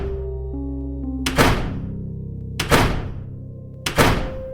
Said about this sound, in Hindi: तीसरी मंजिल से बार बार दरवाजे जोर से बंद होने की आवाजें आ रही थी।